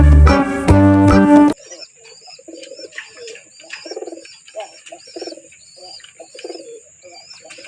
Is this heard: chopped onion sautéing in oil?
no